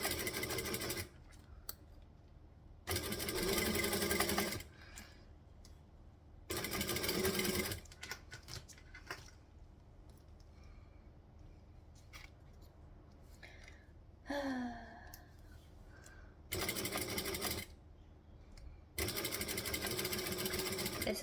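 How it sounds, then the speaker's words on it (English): A sewing machine stitches fabric slowly in several separate bursts of steady whirring, each a couple of seconds long, with quiet pauses between them and a brief breathy sound in one gap. "This is going to be a very slow sew."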